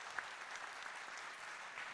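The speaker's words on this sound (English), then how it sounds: "Round of applause for that." At a staff event, an audience claps quietly for a hotel guest service manager who has just been introduced. The applause is faint and distant, an even wash of clapping with a couple of slightly sharper claps.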